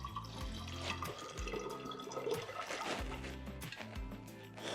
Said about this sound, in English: I'm gonna be trying to pour this and catch the SCOBY before it comes out into the bottle